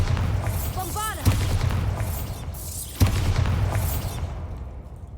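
Bombarda explosion spells cast in Hogwarts Legacy, with two sharp booming blasts a couple of seconds apart over a rumbling game soundtrack and a voice calling out.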